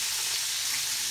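Chicken gizzards frying in oil and being flipped over, a dense, close, continuous hiss of bubbling fat with no voices.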